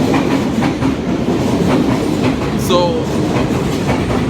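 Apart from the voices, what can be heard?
passing train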